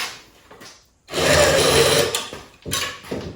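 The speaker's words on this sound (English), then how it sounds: "I'm gonna grind down the same side you were already working on." A grinder files the end gap of a piston ring for an LQ4 engine, a close, loud, steady rasping buzz lasting about a second followed by two shorter grinding bursts.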